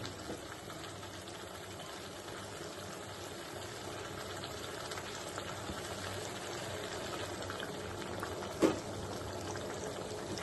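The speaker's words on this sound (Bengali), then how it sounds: "এবার আমি দিয়ে দেবো একটু গরম জল।" Hot water poured into a pan of frying spices while cooking a vegetarian potato, pointed gourd and soya chunk curry, a steady low sizzling, bubbling wash with one brief louder splash near the end.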